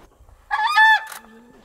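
A screamer, a large gray crested bird of Brazil's Pantanal, gives a single loud honking, goose-like call lasting under a second, followed by a softer falling note, alone against quiet surroundings.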